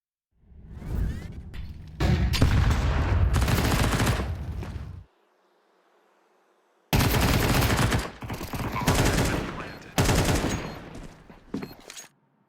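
Loud bursts of rapid gunfire from a Counter-Strike match, with submachine guns such as the MP9, in two long volleys split by a short silent gap, then more sharp overlapping shots toward the end.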